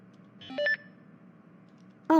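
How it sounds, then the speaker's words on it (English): A phone signals an incoming text message with a short pair of electronic beeps, then a brief pause, then another sharp tonal chirp near the end, clear against a quiet background. "I'm receiving a text message from Officer Mike"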